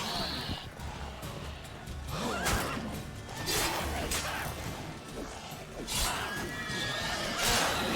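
A horse neighs loudly and close in The Witcher 3, several sharp whinnies and snorts mixing with hoof clatter and combat whooshes and thuds, with a player talking quietly in places.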